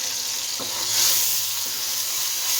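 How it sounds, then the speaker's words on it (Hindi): Quiet, steady sizzling of whole spices (black cardamom, bay leaves and cloves) frying in hot oil, with a soft hiss and a faint stir or clink partway through. "इनको भी हम तो इसके साथ ही फ्राई करेंगे।"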